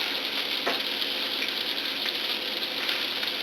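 Bacon frying in its own fat in a pan for a BLT sandwich, a dense, continuous crackling sizzle with a faint scrape or two, no voices.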